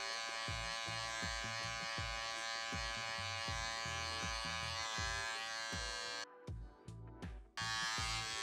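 Electric hair clippers fitted with a number three guard cut hair for a faded mullet, giving a loud, steady close-up buzz with rhythmic pulsing strokes and a brief dip near the end.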